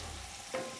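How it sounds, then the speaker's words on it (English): A splash of dry white wine hits a hot pan of cooking celery, setting off a sudden short hiss of sizzling partway through, over a low background of steady frying. "Deglaze the pan"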